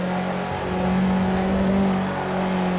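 A race car in Project CARS 2 drives in fourth gear with a loud, steady engine drone that rises slightly in pitch, sustained and close throughout.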